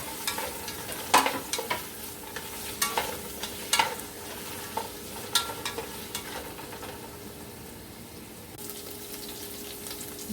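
Onion fries in oil with tomato paste in a pot for Haitian crab legume: a continuous hiss of sizzling broken by scattered spoon-on-pot knocks and scrapes, close up with no voices.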